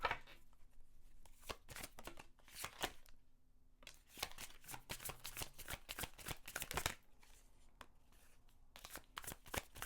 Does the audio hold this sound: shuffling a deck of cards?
yes